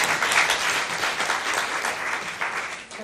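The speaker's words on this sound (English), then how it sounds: "that deserves a round of applause." An audience at a community gathering in Newry gives a sustained round of applause, a dense, even patter of many hands that fills the room and fades slightly at the end.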